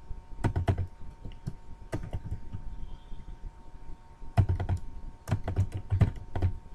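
Bursts of typing on a computer keyboard, quick clustered key clicks with pauses between, close and fairly clear against a faint background hum, no voice.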